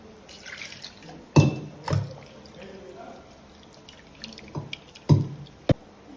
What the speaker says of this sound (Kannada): ಇದರಲ್ಲಿ ಪ್ರೆಸ್ ಮಾಡೋಣ ಚೆನ್ನಾಗಿ ರಸ ಬೀಳ್ತದೆ ಕೆಳಗೆ